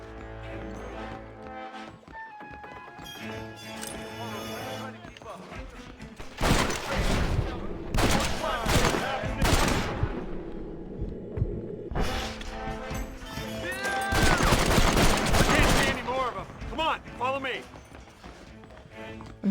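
Gunfire in Red Dead Redemption, several loud clustered bursts of shots in two main volleys with horse hooves and game noise around them, mixed with speech.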